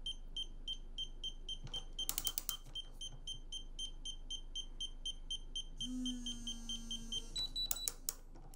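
Atlas Copco STwrench electronic torque wrench beeping in a steady train of short electronic tones that speeds up toward the end, with a few clicks and a brief lower tone partway through, fairly quiet.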